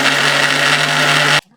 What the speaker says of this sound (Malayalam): മിക്സി നമ്മളൊന്ന് ഓണാക്കുകയാണ്.